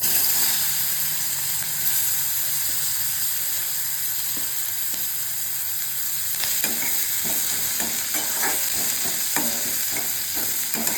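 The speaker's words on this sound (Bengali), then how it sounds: "এবার আমি এতে দিয়ে দেবো পেঁয়াজ কুচি" Chopped onion is dropped into hot oil while making pav bhaji. A soft hiss grows into a louder sizzle with sharp crackles and pops partway through, and no one speaks.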